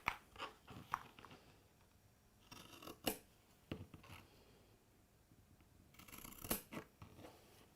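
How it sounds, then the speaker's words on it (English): Scissors snip through fabric for an envelope pouch in short, crisp cuts, several in quick succession near the start and a few more later, close and fairly quiet, with no talk. "So just snip those there"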